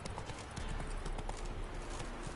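Roach the horse trots in The Witcher 3, a steady, fairly quick clip-clop of hooves under a noisy game ambience, faint and fairly close.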